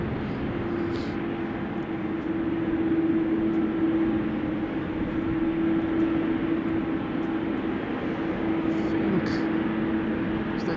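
A JetBlue airliner arriving at Amsterdam Schiphol Airport, a steady broad engine roar with a sustained low hum, continuous and fairly loud without obvious rise or fall.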